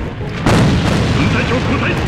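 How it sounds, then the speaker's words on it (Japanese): A grenade explodes in the online shooter AVA during a competitive match, a heavy booming blast that jumps in loudly and rumbles on behind game noise. "手榴弾前方で手榴弾。"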